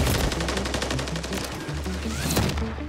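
Rapid bursts of gunfire crack continuously in a Call of Duty MW3 match, loud and close, with dense repeated shots and a low rumbling layer underneath.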